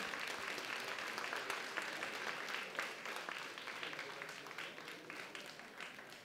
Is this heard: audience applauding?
yes